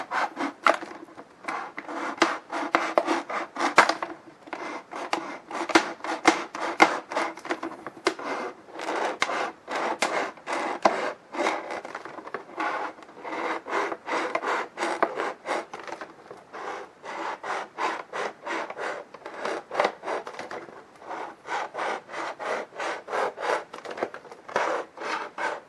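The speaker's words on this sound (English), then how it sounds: "I'm just going to use a penknife to, or a craft knife, it doesn't really matter" A craft knife scrapes and saws around the inside of a potted Cattleya orchid's pot, giving rapid, irregular rasping strokes in close, quiet bursts with short pauses and no talking.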